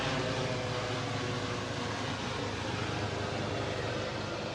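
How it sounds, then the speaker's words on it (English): A helicopter passes overhead near a greenhouse, giving a steady, broadband whooshing roar that holds at an even loudness from start to end, with no speech over it. "Helicopter."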